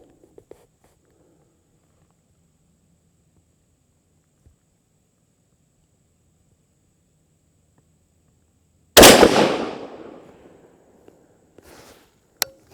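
A single loud, close shot from a TriStar Viper G2 .410 shotgun firing a Remington rifled slug breaks a long near-silence, followed by a decaying echo and then small mechanical clicks.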